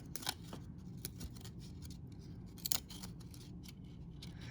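Quiet, crisp scissor snips cut trading cards apart close by at irregular intervals, with a soft hiss and rustle between cuts.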